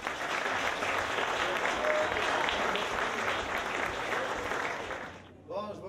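Audience applause welcoming a singer at a Quebec variety show, steady and full for about five seconds before dying out, followed by a brief voice.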